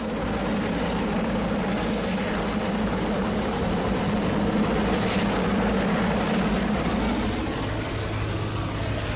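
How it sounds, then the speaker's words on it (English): A large Sea King helicopter comes down over sandy ground, its engine and rotor making a loud, steady roar that fills the whole stretch without a break. "the big Sea King helicopter came near to the sandy ground"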